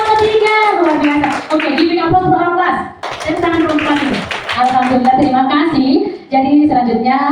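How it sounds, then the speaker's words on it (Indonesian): A school class applauds during a coaching session. Children's voices chant and call out loudly over rhythmic clapping, filling the room near and steady with brief pauses between phrases. "Tepuk tangan dulu untuk kelas ini."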